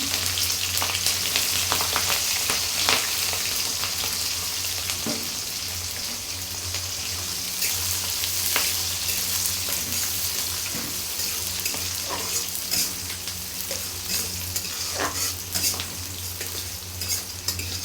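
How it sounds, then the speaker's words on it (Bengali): Dried chillies, green chillies, onion and garlic fry together in hot oil, a steady loud sizzle running throughout with intermittent stirring clicks and scrapes. "এগুলো হালকা বাদামি কালার করে সবগুলো উপকরণ আমি ভেজে নিচ্ছি।"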